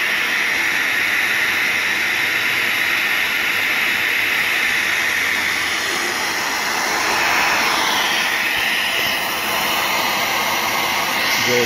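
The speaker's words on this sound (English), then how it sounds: "Using a Model F Electrolux." An Electrolux Model F vacuum cleaner runs steadily in a figure skate sharpening setup, a loud, continuous whooshing hiss with a slight wavering in pitch and no speech over it.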